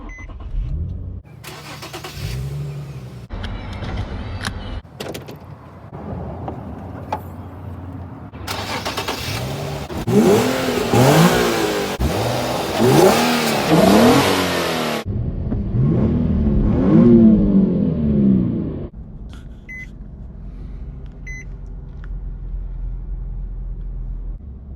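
A 2008 Infiniti G35x AWD with 166k miles cranks and fires up cold, then revs several times in rising and falling sweeps before settling into a steady idle, loud and close.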